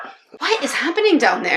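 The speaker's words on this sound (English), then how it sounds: "If you can hear the dogs barking, I'm sorry" Dogs whimpering and yipping indoors, short high whines mixed under a person talking loudly and close.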